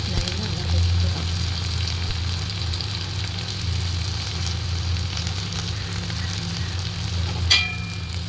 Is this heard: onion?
yes